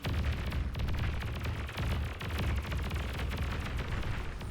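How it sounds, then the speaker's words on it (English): A turret is destroyed in the real-time strategy game Beyond All Reason amid a dense, continuous barrage of booming explosions and rumbling blasts, loud and unbroken throughout. "Build turret gets destroyed as well."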